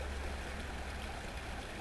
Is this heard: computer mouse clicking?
no